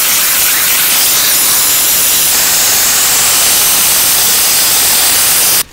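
An iK Foam Pro 12 pump sprayer hisses steadily and loudly inside a car, a continuous broadband spray rinsing crevices that runs almost unbroken before stopping abruptly.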